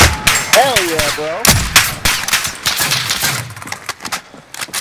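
Warzone gameplay with a rapid string of sharp pistol-style gunshots and thuds, loud and close, mixed with game effects and a short tonal sound early on.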